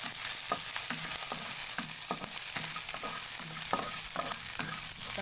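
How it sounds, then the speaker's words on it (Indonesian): Ingredients for pempek sautéing in a pan on a cloudy morning, a steady broadband sizzle with repeated scraping stir strokes at an irregular rhythm, close and moderately loud, with no talking. "kita tumis dulu"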